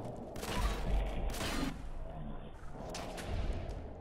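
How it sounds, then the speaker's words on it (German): Loud Fallout 4 gunfire: several sharp, booming shots in separate bursts, each with a short rumbling tail, and no talking. "Der war alles andere als tödlich, der Schuss gerade."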